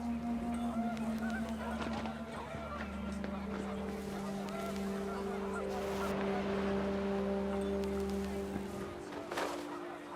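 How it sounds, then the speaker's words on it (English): Geese honk in a windy outdoor scene of the video game What Remains of Edith Finch, several calls layered over steady low droning ambience that lasts the whole stretch. "The wind picked up and panicked geese appeared and quickly went."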